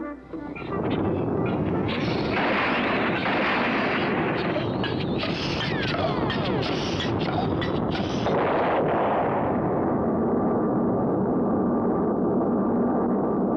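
A cartoon rocket takeoff sound effect from the Clutch Cargo series, a loud sustained roaring rumble that swells and holds for several seconds before easing slightly, with a faint voice underneath.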